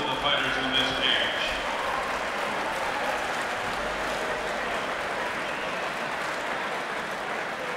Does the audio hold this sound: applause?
yes